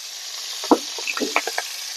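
Fenugreek, kanthari chilli, curry leaves, ginger and garlic frying in oil for a quick tomato pickle, a soft steady sizzle broken by a few brief stirring scrapes and crackles.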